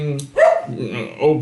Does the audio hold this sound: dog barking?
yes